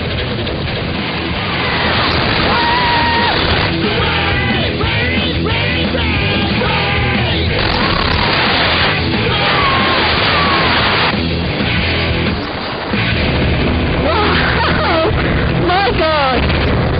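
A woman screams and yells over a loud, steady aircraft engine and rushing wind while wing walking on top of a plane in flight with Wing Walking UK, her cries rising and falling throughout.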